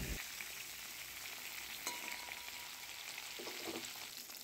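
Pointed gourd and potato pieces fry in hot oil tempered with nigella seeds, giving a steady broadband sizzle with occasional stirring clinks, fairly close and continuous with no talking.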